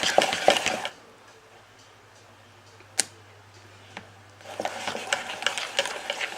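Whisk clattering rapidly against a bowl while mixing cream into softened butter, loud rhythmic scraping bursts at the start and end with a quiet pause and a single clink between.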